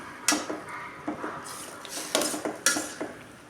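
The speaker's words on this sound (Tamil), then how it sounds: "நல்லா கிளறி கொடுத்து நம்ம மூடி போட்டு ஒரு அஞ்சு நிமிஷம் வேக விடலாம்" Cassava stir-fry is stirred in a pan, a spoon scraping and clinking against the metal in quick irregular strokes with a faint sizzle underneath, close up and without talk.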